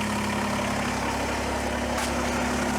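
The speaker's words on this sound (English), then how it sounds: "fire up the tractor" A Kubota BX23S compact tractor engine idles steadily with a low, continuous hum and a faint rattle, running alone without any talk.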